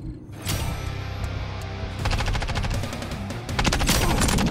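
Team deathmatch video game gunfire: rapid automatic bursts rattle in quick succession, close and loud, with sustained volleys toward the end.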